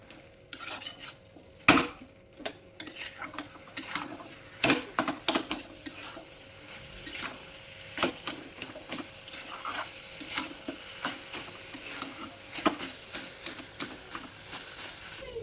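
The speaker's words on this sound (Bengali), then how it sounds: "এবার আমি সব কিছু ভালো করে মিশিয়ে নেব" Chopped banana flower being mixed with turmeric, salt and cumin powder in a bowl, a busy run of close clinks and scrapes from a spoon against the dish.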